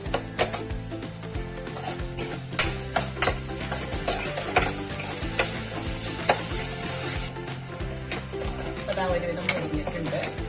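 Ginger and aromatics sauté in a pan with vigorous stirring, loud rhythmic scrapes and clacks of a spoon over a constant sizzle, close and busy throughout.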